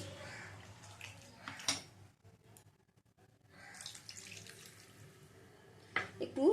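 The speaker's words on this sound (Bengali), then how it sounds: "পোস্তটা একটু হালকা কষিয়ে নিয়ে এবার এর মধ্যে দিয়ে দেব জল" Water pours into poppy seed paste in a cooking pan, a splashing flow with a brief pause before it resumes, close and fairly quiet.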